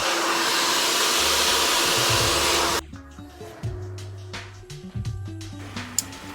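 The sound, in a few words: hair dryer blow drying natural hair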